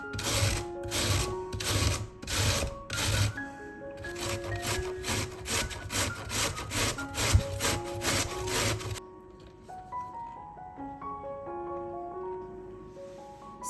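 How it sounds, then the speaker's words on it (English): Two medium carrots rubbed on a fine kitchen grater make rhythmic rasping strokes under steady background music for most of the clip, then the scraping stops and only the music remains. "Grate them on a fine grater."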